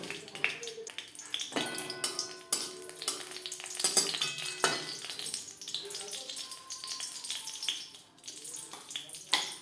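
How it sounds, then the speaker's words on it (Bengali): Green chili being stirred and fried in mustard oil in a wok, a steady close sizzle with scraping stir strokes and clanks throughout. "দশ সেকেন্ড কাঁচা লঙ্কা নাড়াচাড়া করে নেওয়ার পর"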